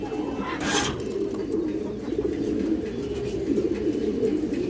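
Kaldom pigeons kept in pairs in a loft coo steadily, a continuous low murmur of several birds nearby with a brief flutter-like burst early on.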